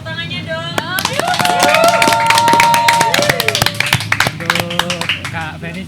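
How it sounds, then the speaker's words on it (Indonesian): Scattered clapping from a small audience at an evening youth-group talk session, sharp claps rising and thinning over about six seconds, with people talking and a faint tonal background running underneath. "Beri tepuk tangannya dong"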